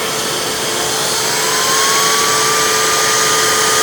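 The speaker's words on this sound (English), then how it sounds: "This vacuum doesn't really have the strongest suction, that's why the turbo tool doesn't really spin too fast." Hoover WindTunnel bagless self-propelled upright vacuum running with its pet hair turbo brush attached, a loud steady motor whine with a constant high hiss that holds throughout, close by, no talking.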